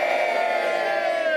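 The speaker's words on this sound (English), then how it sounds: "Give them a cheer, everybody." A large crowd gathered for a charity walk finish cheers and whoops loudly, a dense sustained roar of many voices that stays close and ends with a sharp knock.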